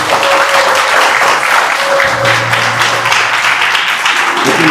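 Wedding guests clap together in steady, dense applause that carries on for several seconds, loud and close, with a faint sustained tone running beneath the clapping.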